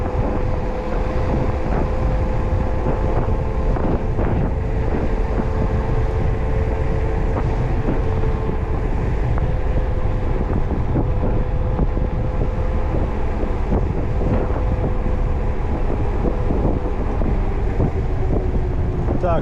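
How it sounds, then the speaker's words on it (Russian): Cold wind roars steadily against the microphone on a Crimean roadside route near Ordzhonikidze and Koktebel, a continuous broadband rumble with a faint engine-like drone underneath and no pauses. "Холоднющий ветер."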